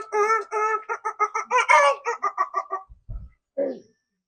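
A human voice imitates a hen, giving a quick run of about a dozen rhythmic, nasal clucks that build into a louder squawk, then a short pause and one final cluck, close and clear with no other talk.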